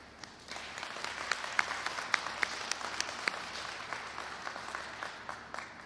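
Audience applause at a Detroit transit event, a steady wash of many hands clapping at moderate distance, sustained through the whole stretch with individual claps popping out.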